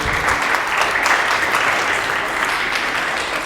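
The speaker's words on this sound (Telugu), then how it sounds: "చప్పట్లు కొట్టాలి కదా" A crowd of listeners claps together in a steady, even burst that carries on throughout without a break.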